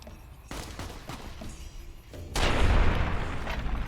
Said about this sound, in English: I need the shotgun.